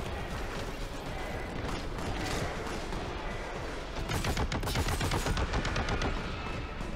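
Sustained rapid gunfire from the retro shooter game Boltgun, a dense continuous barrage of shots that grows louder and sharper about halfway through, with mechanical clatter mixed in.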